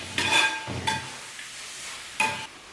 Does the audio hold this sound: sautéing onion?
yes